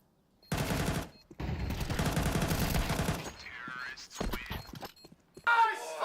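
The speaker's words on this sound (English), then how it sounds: "Crazy shooting." Bursts of rapid gunfire from a Counter-Strike match fill the moment, with dense automatic shooting broken by short gaps and a few sharper game effects at the end.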